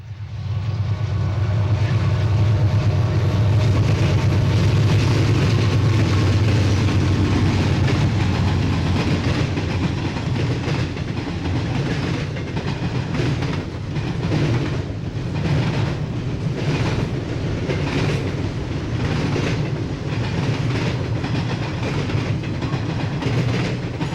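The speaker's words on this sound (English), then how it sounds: "Our first train shot from the Railfan parking lot is an eastbound off of the Chicago line" An eastbound freight train on the Chicago line passes a railfan parking lot at Berea, heavy engines rumbling loud and close, then a long steady run of clattering wagons with rhythmic clickety-clack.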